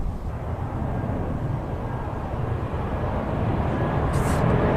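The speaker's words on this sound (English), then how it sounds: "Planes and trains and everything going over at the same time." Planes and trains passing overhead together in Sydney make a loud, steady broadband rumble that holds throughout and swells slightly toward the end.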